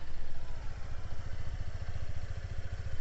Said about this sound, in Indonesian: Untuk suara mesinnya kayak gini, memang kayaknya agak lebih besar ya suaranya